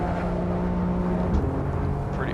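A BMW M4 engine drones loud and continuous during a hot lap in Assetto Corsa, a steady buzzing racing note with slight pitch shifts and no pause.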